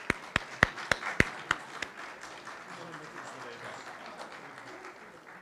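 At an award ceremony, a handful of sharp, spaced claps ring out, about seven in quick succession, before trailing off into a faint murmur of room noise.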